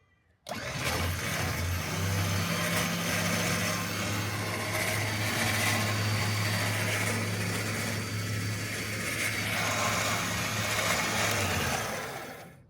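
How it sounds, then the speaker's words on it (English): A brand-new John Deere 5105M tractor engine runs steadily close by, a continuous low diesel drone holding an even level for about eleven seconds after starting abruptly, then fading at the end. "brand new, John Deere 5105M"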